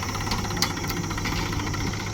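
A tractor engine runs steadily at a pit-filling job site, a continuous low droning rumble with slight knocking pulses, close and unbroken.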